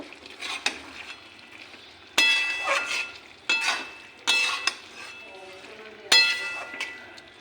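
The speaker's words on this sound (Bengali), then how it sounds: "এখন মিশিয়ে নেব।" Spices, ground cumin, ginger paste, coriander powder and green chili get stirred into mixed winter vegetables in a hot pan, a constant sizzle under repeated loud scraping and clattering strokes of a spatula, close up with a faint voice now and then.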